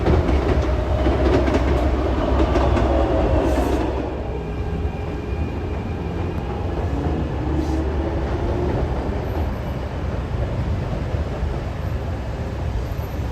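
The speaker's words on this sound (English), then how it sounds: "I knew that would be a good spot to watch the trains." A Philadelphia-area train rumbles past close by, loud and steady with rhythmic rail clatter, easing slightly in volume partway through.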